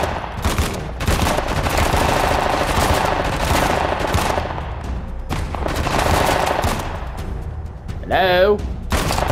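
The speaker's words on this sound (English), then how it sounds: "are you even shooting them?" Sustained automatic gunfire from a firefight in the action video game Uncharted: The Lost Legacy, loud and continuous with brief lulls, while a voice speaks briefly near the end.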